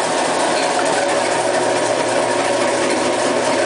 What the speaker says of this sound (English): we'll turn on the auger to run at the same time.